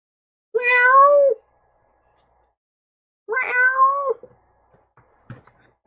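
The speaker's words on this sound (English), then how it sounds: "messing with the cats" A couple of house cats give two clear, drawn-out meows a few seconds apart, close and loud in a quiet room, followed by faint small shuffles.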